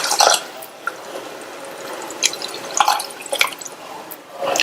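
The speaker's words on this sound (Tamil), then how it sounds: "இதுல 200 ml டம்ளர்ல 2 டம்ளர் தண்ணி சேர்க்கிறேன்." Two 200 ml tumblers of water go into a gravy mixture in a home kitchen, heard as a few separate splashes and drips with quiet gaps between them, close and moderately loud, with no talk.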